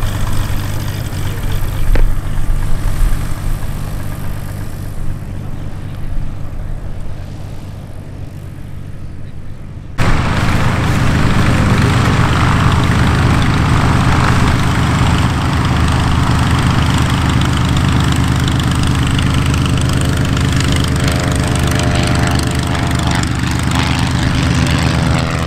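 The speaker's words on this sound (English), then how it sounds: "Aircraft departing runway 36 left" Propeller aircraft taking off from the runway at EAA AirVenture Oshkosh: a steady engine drone that jumps to a loud, constant full-power roar partway through and holds close and strong to the end.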